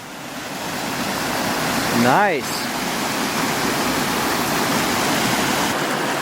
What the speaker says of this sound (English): It's like we got a little mini waterfall down here.